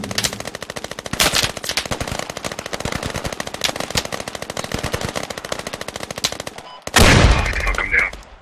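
Sustained automatic gunfire in the tactical shooter game Squad, dense rapid bursts that go on nearly continuously, then stop abruptly before a single loud blast, with a voice faintly heard under it.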